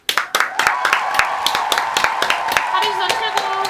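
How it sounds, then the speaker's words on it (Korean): A small group clapping their hands together in an indoor gathering, with loud, sharp, irregular claps that keep up for a few seconds under some speech. "박수 한번 칩시다."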